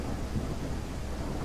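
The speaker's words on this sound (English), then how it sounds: "It's raining in the front, not raining in the back." Rain in the Endless Suburbia driving video game hisses as a dense, steady wash of broadband noise with low rumbling underneath, constant and fairly loud throughout, with no voices.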